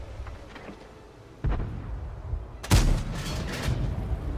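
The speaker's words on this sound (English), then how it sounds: "And I fire out that M4 and miss" Two sharp tank cannon blasts from an M4 in World of Tanks, the second louder and followed by a rumbling tail, with game noise underneath.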